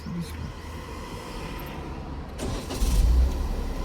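Manual car engine idling and rising slightly in a low steady rumble as the clutch is slowly released, close and continuous with a swell toward the end.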